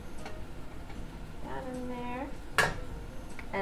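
Food seasoned with black pepper and salt is stirred in a pan, giving soft scraping and one clear clink of utensil on metal, with a brief vocal sound in the middle.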